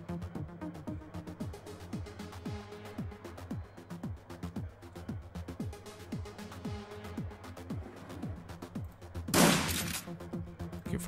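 A shotgun in Shadowrun: Dragonfall goes off once near the end, a loud burst over a steady run of rhythmic plucked game music.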